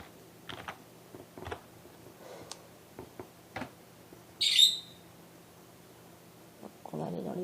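Scattered computer keyboard keystrokes, a search being typed as sparse, light clicks with gaps between them, plus a brief high chirp midway and a soft voice near the end.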